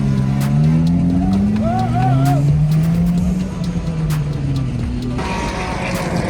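A race car circles the Interlagos track during qualifying, its engine droning and shifting pitch as it passes at a distance under a steady background roar, with brief voices over it.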